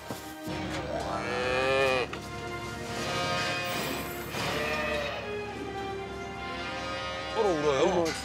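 Dairy cows on a milking farm moo in long, drawn-out calls that overlap one another, loud and close, with people talking briefly between the calls.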